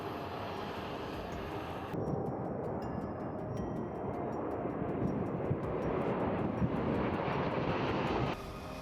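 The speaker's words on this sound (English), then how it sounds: "The Boeing C-17 Globe Master is a large military transport and tactical airlift aircraft" A Boeing C-17 Globemaster military transport jet roars with a steady, broad engine drone, the tone shifting partway through as if the aircraft passes, with no voices.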